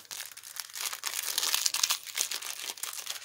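Foil wrapper on a vegan, gluten-free chocolate bar crinkles and crackles in close, busy bursts, with continuous rustling and a few sharper crunches throughout.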